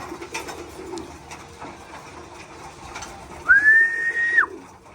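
Birds call faintly in the background over low ambient noise, then a clearer whistled note rises and holds briefly before dropping off.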